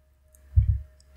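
Computer mouse clicks while setting up a virtual machine in VMware Workstation on Windows 10: a quick double click, close and soft, against near-silence.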